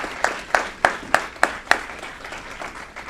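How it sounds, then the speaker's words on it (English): A handful of evenly spaced claps from a city council meeting audience for an advisory board, sparse and fairly faint, tapering off after about two seconds. "If we can please give them a round of applause"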